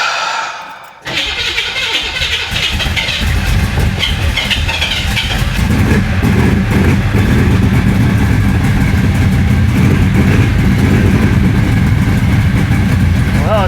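A flood-damaged 1966 Chevy Impala SS V8 fires up after a brief quiet start, then settles into a loud, steady, slightly rough idle close by for the rest of the clip.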